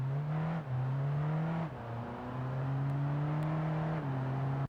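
A turbocharged car engine accelerates with a steady, loud drone that steps up in pitch through gear changes, heard close and without talk.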